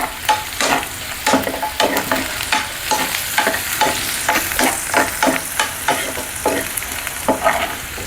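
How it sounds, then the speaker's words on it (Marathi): Asafoetida sizzles in hot oil with onion and garlic for a dal tadka while a spoon stirs it in steady, repeated scrapes, loud and close, with no voices. "त्या स्टेजमध्ये मी हिंग ॲड करते."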